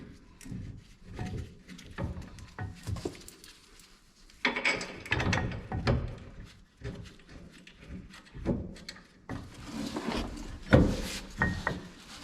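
A ratchet wrench snugs 21 mm bolts into brake calipers on a 1955 Chevrolet Bel Air, clicking in uneven bursts amid metallic clanks and handling knocks, close and moderately loud.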